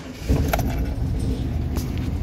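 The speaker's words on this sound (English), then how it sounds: "All right, let's do a cold start on her. Let's see if she starts." A Chevy 3500 dually pickup that has been sitting a while is started cold and settles into a loud, steady, low engine rumble close by, with faint metallic jingles over it.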